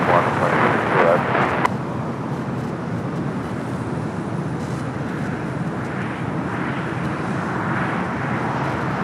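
A fixed-wing aircraft near LAX airport passes as a steady broad engine roar, louder at first and then holding as a continuous distant rumble, with a voice over a radio or commentary beneath it.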